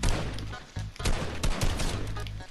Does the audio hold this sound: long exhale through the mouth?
no